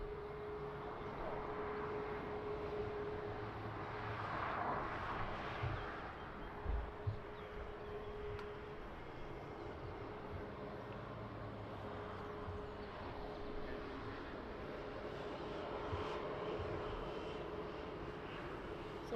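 An Air Canada Airbus A330 on final approach to Lisbon Airport, a faint, steady jet drone heard from a distance with a thin tonal whine held through.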